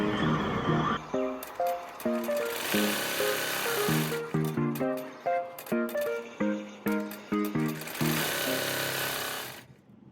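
Embroidery machine stitching a decoration on ID badge cards, with rapid mechanical needle chatter in repeated bursts and short pauses, close and steady, ending in a brief stop.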